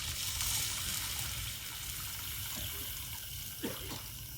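Broth poured into a tray of meat and tomatoes for an Egyptian baked dish, heard as a low continuous splashing pour with a soft gurgle near the end and no talking.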